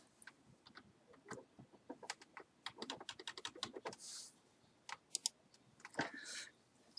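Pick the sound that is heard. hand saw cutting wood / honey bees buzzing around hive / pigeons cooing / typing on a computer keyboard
typing on a computer keyboard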